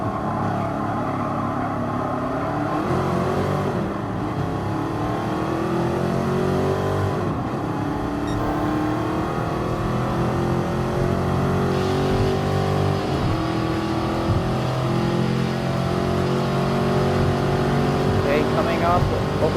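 Racing car engines in Gran Turismo Sport during a nostalgic car festival event, a loud steady engine drone with rising and falling pitch as gears shift, continuous and near throughout, with a commentator talking over it.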